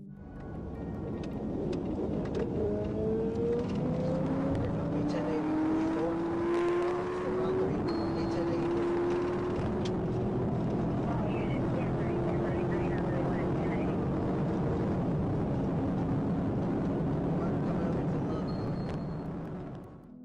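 Engine roar of a police pursuit at night in Clayton County, a trooper's car chasing a speeding high-performance motorcycle, heard as a steady, loud drone with rising and falling revving tones throughout, mixed with road and wind noise.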